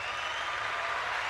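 Canned crowd applause plays from a small sound device, a brief, dense wash of clapping and cheering noise held at a steady level.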